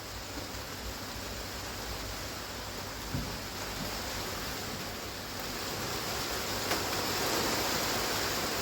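Heavy rain pours steadily outdoors beside a koi pond, a dense, continuous hiss that stays loud and even throughout with no voices.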